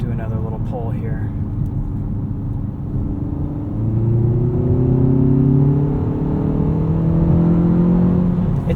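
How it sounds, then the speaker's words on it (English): A 2019 Hyundai Veloster Turbo R-Spec with a six-speed manual pulls hard, its turbo engine note piped through the cabin speakers, heard from inside as a rising, throaty drone that climbs through the revs and grows louder midway. "It's just a little bit throatier, and it's all piped in through the speakers, so it's kind of enhancing natural sounds"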